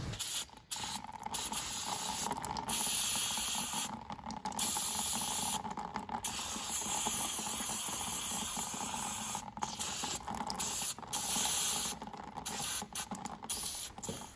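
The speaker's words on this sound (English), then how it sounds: "basically all we're going to do is take our carb cleaner and blow through all the holes" Carb cleaner hisses through the small holes of a small engine carburetor in a string of short and longer spray bursts with brief gaps, close and moderately loud.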